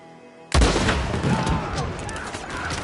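Gunfire in Red Dead Redemption 2 erupts suddenly after a quiet lead-in: a loud, close burst of shots and booms followed by rolling, sustained volleys that slowly fade.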